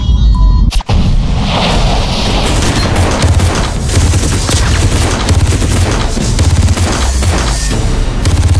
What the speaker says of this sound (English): There's another! Heads up! Grenade!